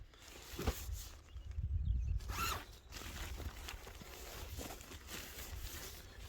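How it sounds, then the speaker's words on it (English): Zipper on a Pomoly Locomotive 3 hot tent storage bag being pulled open outdoors, a close rasping run with a couple of sharper zip strokes amid handling rustle, no talking. "Zip."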